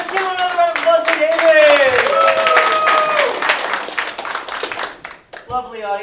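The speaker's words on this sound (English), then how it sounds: "Let's give him another round of applause for" Audience applause at an improv comedy show, a full burst of clapping from a room crowd under a performer's voice, fading out toward the end as talk resumes.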